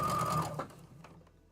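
A home sewing machine stitching through a quilt block seam, a short loud mechanical whir that stops abruptly after under half a second, leaving faint clicks and handling noise.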